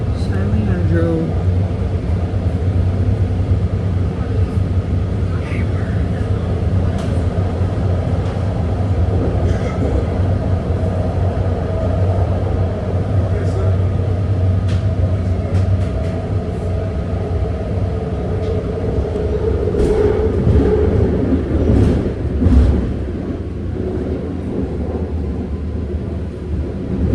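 Six-car BART Green Line train heading toward SF/Daly City via Oakland Airport rolls steadily with a constant low rumble and rail noise, brief clanks and a louder surge near the end.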